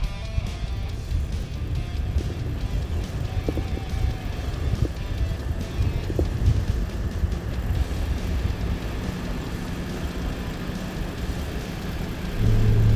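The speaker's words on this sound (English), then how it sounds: "we're cruising off the beach now, and it was super tough, super soft to get in here" A Land Cruiser towing a caravan grinds off soft, wind-blown beach sand, its engine a steady low rumble and drone close by throughout, with a heavier surge near the end.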